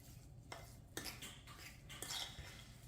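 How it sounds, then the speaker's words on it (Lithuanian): A fork works curd and sour cream together in a bowl, giving a few soft, close metallic clinks and scrapes spaced apart over quiet room tone, with no talking. "dabar reikia truputėlį ištrinti varškę su šakute, ištrinti varškę ir grietinę"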